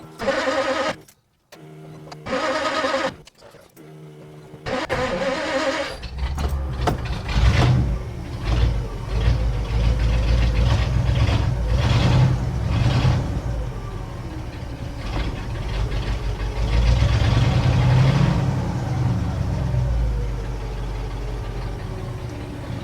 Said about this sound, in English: Let me fire up the car